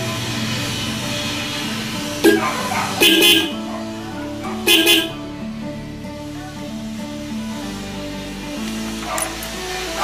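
A loud, blaring dual disk horn honks in several short bursts, two close together then another and a final brief toot, over a steady engine rumble from the vehicle idling in neutral.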